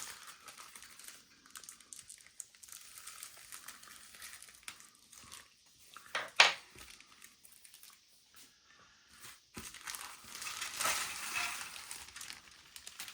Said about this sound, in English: Now it's time to bust this big bag open.